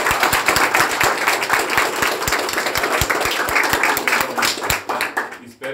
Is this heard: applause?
yes